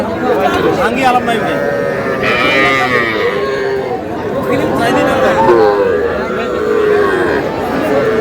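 Young bull calves moo repeatedly at a cattle market in Cumilla, their calls overlapping with loud chatter and bargaining voices from the surrounding crowd.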